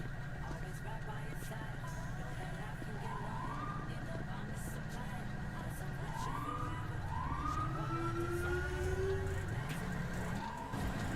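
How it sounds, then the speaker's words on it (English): A police car siren in a roleplay game wails faintly in the distance, its rising and falling sweeps drifting over a steady background hum. "That siren you hear, he's coming over here to talk to you."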